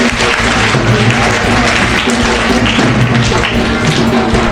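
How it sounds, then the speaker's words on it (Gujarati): Audience at a birthday felicitation event in Thaliya village, Bhavnagar district, applauding steadily and loudly, a dense continuous wash of clapping with no pauses. "ખૂબ ખૂબ તાળીઓથી વધાવી લઈશું આપણે।"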